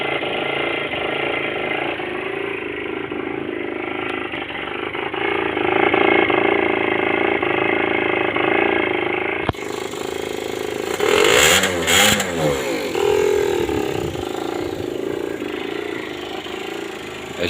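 An Aprilia SR50 scooter with a Morini direct-injection engine and a seized compressor runs steadily up close, its buzzing, uneven note stuttering and crackling, briefly rising in revs before settling back.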